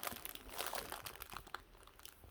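Double-sided tape is ripped by hand in a few quick, crinkly tearing bursts, faint and close, with no talking.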